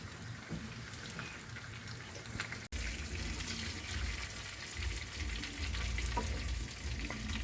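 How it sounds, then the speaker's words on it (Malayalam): Mackerel frying in hot oil for a packed lunch, a steady dense sizzle and crackle that runs loud throughout, broken only by a brief dropout partway through, with no voices. "മീൻ വറുക്കാനായിട്ട് ഇടുകയാണ്"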